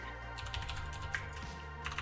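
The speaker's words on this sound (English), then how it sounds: "You can hear my lovely keyboard again." Rapid clattering keystrokes on a computer keyboard, close and continuous, with quick uneven bursts of clicks over a low steady background hum and no talking.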